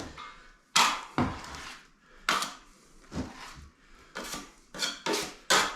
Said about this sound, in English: This is where I use the 100mm broad knife trowel.